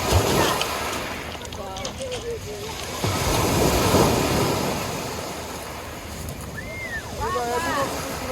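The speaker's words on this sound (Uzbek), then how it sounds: "Qop-qora dengiz, rangi ko'mko'k." Black Sea waves wash onto a pebble beach in Batumi, a steady rolling surf with gusty wind buffeting the microphone, while people talk nearby over the water noise.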